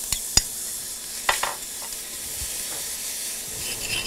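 Red berries dropped into dry caramel made from melted sugar hiss and sizzle steadily in a pan, with a few sharp pops and spatters near the start, close and without talk.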